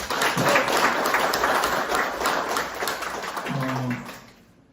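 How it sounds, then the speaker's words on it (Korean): Audience applause in a small meeting room at the National Assembly library, a dense steady burst of many hands clapping that tapers off near the end, with a brief low voiced sound underneath. "박수 한번 부탁드리겠습니다."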